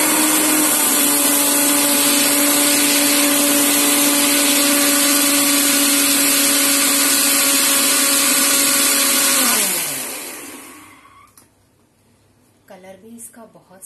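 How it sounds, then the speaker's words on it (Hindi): A mixer grinder blends a green immunity drink with a little water, a loud steady motor whir that runs continuously for about nine seconds, then winds down and stops, leaving faint clatter. "थोड़ा सा इसमें पानी डालेंगे और इसको हम ग्रेट कर लेंगे मिक्सी में"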